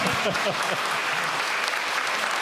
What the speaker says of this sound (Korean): 맞으면 박수로 치셔야 돼요.